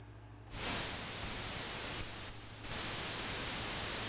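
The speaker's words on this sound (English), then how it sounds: "Let's listen to the noise by itself." A Roland Juno Alpha 2 synthesizer's noise oscillator plays alone, a flat hiss of static-like white noise that starts abruptly after a half second of quiet hum, dips briefly in the middle, then holds steady and loud.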